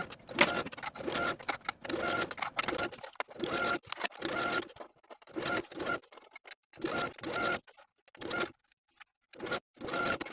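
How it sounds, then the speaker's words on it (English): Sewing machine stitching a gathered skirt to a bodice in bursts of rapid mechanical whirring, several runs of a second or two separated by short pauses, close and clear with no talk. "we'll sew the gathered skirt to the bodice all the way around"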